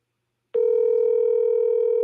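A single steady electronic tone on a phone call, marking the start of a voicemail recording. It switches on abruptly and holds at an even pitch with faint harmonics, clear and alone with no talk.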